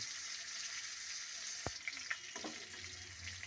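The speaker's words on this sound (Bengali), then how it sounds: "একটু ভালো করে ভেজে নেওয়া হবে যাতে একটু সেদ্ধ হয়ে যায় বা কালারটা চেঞ্জ হয়ে যায় ততক্ষণ পর্যন্ত ভাজতে থাকবো" Meat with cauliflower frying in a pan gives a soft, steady sizzle, broken by a sharp utensil knock and a few stirring scrapes near the middle.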